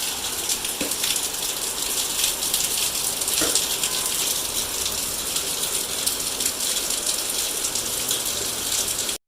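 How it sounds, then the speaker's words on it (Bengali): Steady rain hisses continuously across the whole stretch, dense and even, with a few faint clicks and no voices. "যেমন মেঘ তেমন বৃষ্টি হচ্ছে।"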